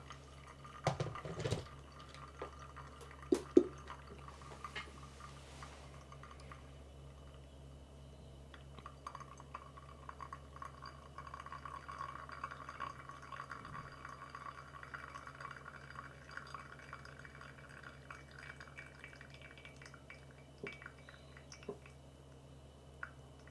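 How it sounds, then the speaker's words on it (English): Water drains through a pour-over coffee brewer after the final pour to 240 grams, a faint steady trickle with scattered soft drips and a few louder splashes early on, no talking. "The last pour to 240 grams."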